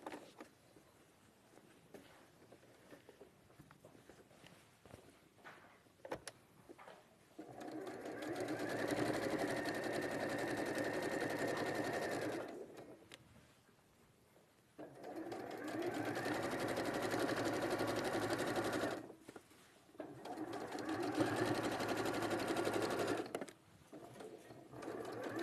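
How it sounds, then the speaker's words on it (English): A sewing machine stitching through fusible foam runs in three long, loud, steady bursts of humming, rapid needle action, separated by quiet pauses with faint handling sounds. "you love sewing through foam anyway, don't you?"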